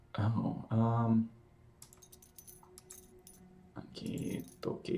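Keys jangle in the Blue Prince video game as a few quick metallic clinks and rattles, between stretches of a person talking.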